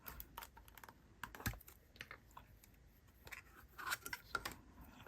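Soft, close crinkling and tapping as masking tape packaging is handled and opened, a series of light clicks and rustles at low volume.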